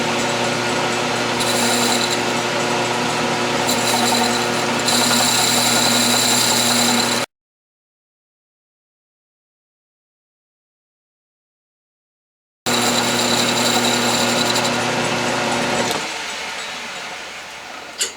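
Lathe facing a brass or steel part for a Stuart steam engine, a steady loud whirring with cutting hiss, interrupted by a few seconds of total silence, then resuming and tapering as the cut eases.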